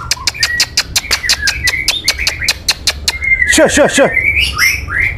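A murai trotol bird sings close by in a rapid series of sharp, repeated whistled notes that break into a rolling trill and then squeaky chirps, while a voice briefly cuts in.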